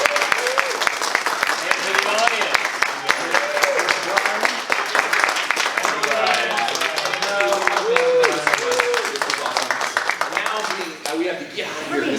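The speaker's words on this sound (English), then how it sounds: "I would like a round of applause for my crew" Studio crew at a Gen Con charity game broadcast applauding steadily for about twelve seconds, dense clapping mixed with voices and cheers from people nearby, fading slightly near the end.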